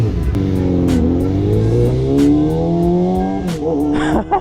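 Suzuki GSX250F Across motorcycle engine revving to about 7,000 RPM, a loud buzzy wail that climbs and holds high, then drops near the end with a few sharp clicks.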